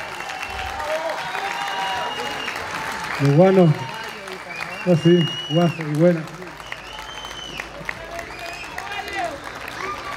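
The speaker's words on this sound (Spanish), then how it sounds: "Tremendo el aplauso para estos grandes artistas" Audience applause for the performers at an evening Virgen del Carmen festival in Pelarco, steady crowd clapping throughout while an announcer talks over it with a sung or shouted phrase in the middle.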